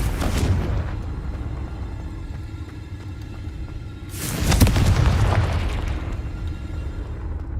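A Confringo fire spell explodes in Hogwarts Legacy, heard as a deep rumbling blast that swells under a steady low roar, with a second louder, brighter burst midway that slowly fades.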